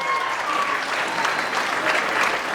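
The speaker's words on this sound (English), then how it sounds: "Give the two of them a big round of applause" Audience clapping at the Rose of Tralee contest for two performers, a sustained dense round of applause from a crowd, loud and even throughout with no voices over it.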